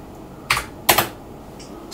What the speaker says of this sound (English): Space bar to get back in there.